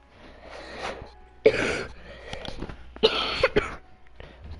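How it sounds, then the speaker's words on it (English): A person coughs a few times in separate bursts, close to the mic and moderately loud, with quieter throat noises and faint background sound between the coughs. "If you guys can hear me cough."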